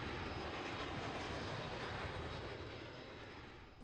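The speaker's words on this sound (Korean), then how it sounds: "비행기 한 대가 활주로를 가르며 들어오고 있다." A fixed-wing airplane arriving on a runway, a faint, broad, steady engine rumble and rush that slowly fades toward the end, heard from a distance with no voices.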